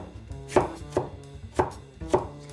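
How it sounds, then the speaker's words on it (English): A kitchen knife chops yams into small cubes on a cutting board, giving four crisp, evenly spaced thuds close up with no talking. "We're just gonna make cuts across like this and then stack those kind of larger chips and then make cubes out of those."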